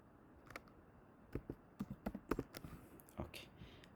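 Quiet, irregular keystrokes on a computer keyboard, a few isolated clicks followed by a brief quick burst of typing, close but faint against a low background hiss.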